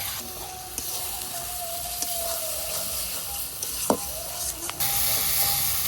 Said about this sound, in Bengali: এই মশলাটা ভালো করে কষিয়ে নিয়েছি